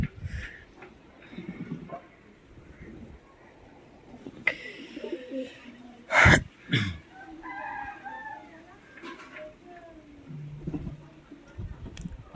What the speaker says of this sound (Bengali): পায়রাগুলো এখন খাচ্ছি